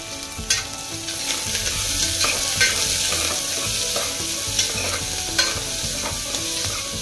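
Sliced onions and curry leaves fry in hot oil while being stirred for a Telugu ridge gourd and chana dal curry, with a steady close sizzle and scraping spoon strokes throughout, no voices.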